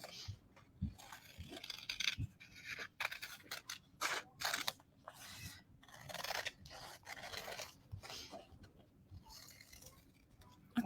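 Scissors cut a fabric scrap for an appliqué leaf block, giving close, repeated crisp snips and scraping cuts in an uneven rhythm, fairly quiet, with no talk.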